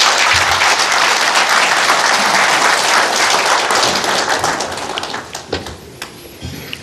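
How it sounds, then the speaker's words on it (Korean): A studio audience at a televised presidential candidates' debate greets Hong Joon-pyo with loud, dense applause that holds steady, then tapers into scattered final claps. "바쁜 유세 일정 가운데서도 자리해 주신 홍준표 후보를 박수로 맞아주십시오"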